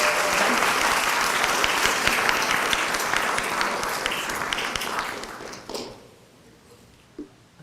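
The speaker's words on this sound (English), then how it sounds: "Let's give them one more round of applause." Sustained applause from an audience at a school board of education meeting, dense and steady for about five seconds before tapering off into scattered claps and near silence.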